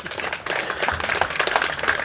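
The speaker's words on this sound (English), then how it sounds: "Yeah, that deserves a round of applause" Steady, dense applause and clapping from an audience at a West Tennessee Bass Nation high school fishing championship, filling the whole moment without pause.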